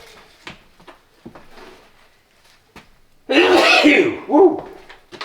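A single sharp human sneeze bursts out loudly in a barn tool room, followed by a short second burst, after quiet rummaging sounds and faint talk.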